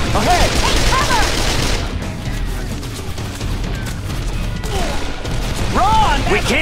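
Heavy machine gun fire in the shooter game Call of Juarez: The Cartel, dense continuous bursts and impacts roaring loud throughout with shouted voices mixed in.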